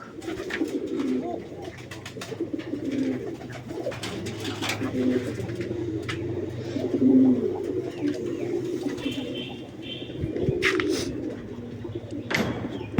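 Several pigeons perched in a tree coo steadily in soft, overlapping calls, with occasional chirps and a light clatter nearby.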